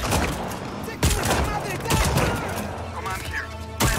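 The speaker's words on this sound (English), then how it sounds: "Did not realise it was a shotgun." A shotgun fires in the video game Just Cause 4, with several heavy booming blasts at irregular intervals. They sit over a dense, loud wash of game gunfire and action noise, and a voice may be faintly mixed in.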